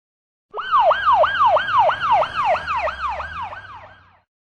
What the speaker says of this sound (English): ambulance,